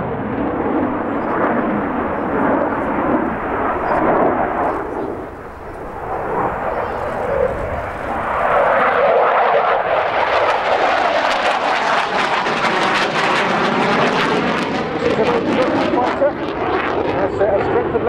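Polish Air Force MiG-29 jet fighter flying an air show demonstration, a loud continuous jet roar that dips briefly, then swells into a harsher, rushing pass that sweeps through. Someone speaks in the background over the jet noise.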